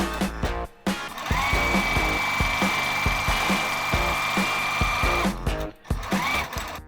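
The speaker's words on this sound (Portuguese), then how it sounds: "Aí fizemos as barrinhas aqui na máquina, costuramos os dois lados" A sewing machine stitches strips of TNT nonwoven fabric for an Easter gift bag, running in a steady close whir with a rhythmic ticking mechanism, starting and stopping briefly at the ends.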